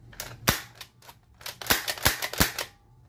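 An AF Desperado foam blaster fires a quick series of sharp, close, snapping shots in an uneven burst, with mechanical clicks between them.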